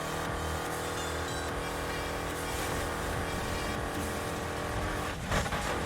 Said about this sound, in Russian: нужно сменить, поднастроить звуки выхлопа.